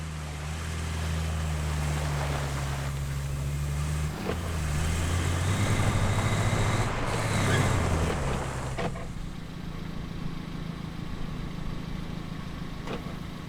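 A truck engine in the video game RoadCraft, a low steady drone that rises and grows rougher midway, then settles back to a quieter hum.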